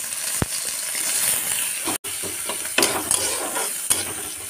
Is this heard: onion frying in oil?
yes